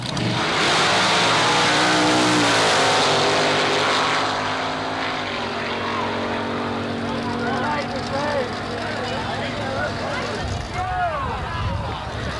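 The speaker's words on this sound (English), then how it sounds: "In the 1923 Ford Roadster 427 Chevy powered." A 1923 Ford Roadster powered by a 427 Chevy engine launches at a drag strip, a loud roaring engine blast that fades into distant droning as the car runs away, with an announcer talking over it.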